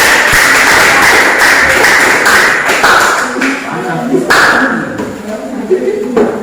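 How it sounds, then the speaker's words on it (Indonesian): Applause for a student group in a high school class fills the room as a dense burst of clapping that thins toward the end, with voices talking over it. "Tepuk tangan untuk kelompok."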